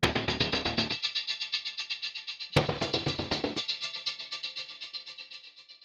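A rhythmic Aura form texture layered with textual convolution delay, two pulsing bright swells that each start strong and ripple away in repeating echoes, close and with no voices.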